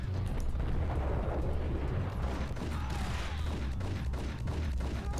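Continuous gunfire in the shooter game Max Payne, a dense and loud barrage of shots over a low rumbling bed that carries without letup for several seconds.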